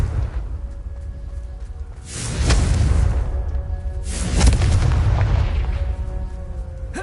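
In Hogwarts Legacy, a Confringo spell sets off two heavy booming blasts with rushing whooshes and rumbling debris, loud and close over a low ambient bed.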